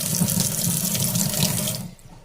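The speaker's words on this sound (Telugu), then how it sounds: "నీళ్ళు వస్తున్నాయి." A kitchen tap runs in a steady, close splashing stream, then cuts off near the end, leaving quiet.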